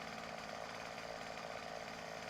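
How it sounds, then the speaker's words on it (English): A chainsaw runs steadily in the 7 Days To Die video game, a continuous loud buzzing drone that holds at an even level with no pauses or rev changes. "Oh, hush, chainsaw."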